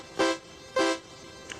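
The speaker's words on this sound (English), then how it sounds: "We're going to the pulse waveform and listening to a fairly fast attack and a fairly" Short Commodore 64 pulse-waveform synth notes with a fast attack, decay and release: two buzzy, reedy honks in quick succession, then a faint third blip, close and alone.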